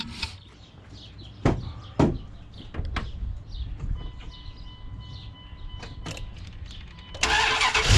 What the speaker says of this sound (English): I'm going to go ahead and start it up, see what it does.